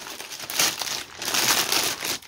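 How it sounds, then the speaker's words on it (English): Plastic packaging on an unboxed anime figure is torn and crinkled open in two close, loud bursts of crumpling with no voice over it. "And here's me going to rip it open."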